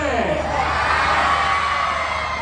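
A live audience at a Sun TV stage event in Vellore roars with sustained cheering, whoops and shouts, a dense, loud crowd din that fills the whole moment.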